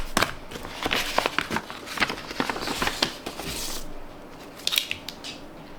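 Paper tearing and crinkling as a mailed letter envelope is opened by hand, a run of close rips and rustles followed by softer handling of the contents.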